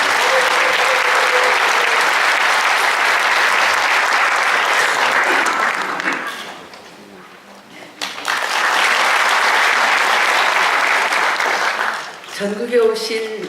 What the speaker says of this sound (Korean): 우리 김현미 장관님을 뜨거운 박수로 모시도록 하겠습니다.